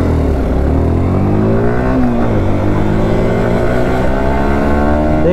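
Yamaha R15 V4 and KTM Duke 200 motorcycles in a drag race on hilly roads, engines revving loudly and rising in pitch as they accelerate hard, a continuous close roar throughout.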